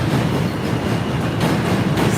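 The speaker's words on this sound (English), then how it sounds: "here comes the train again" A New York subway train rolls across the Williamsburg Bridge at night, a loud, continuous rumble with rattling wheels close by the pedestrian walkway and no talk.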